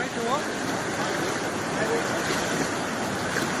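Strong floodwater rushes past in a broad, continuous roar of churning water that stays loud and steady from start to finish, with no voices over it.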